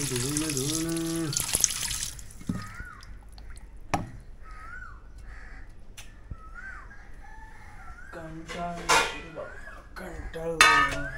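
Tap water runs while something is washed in an outdoor rural setting, a steady splashing hiss heard alongside a rooster crowing several times nearby and bits of talking.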